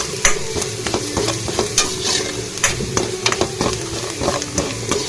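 Tempered rice being mixed with sambar powder in a hot pan, rhythmic spoon scrapes and clinks over a constant sizzle, close and fairly loud.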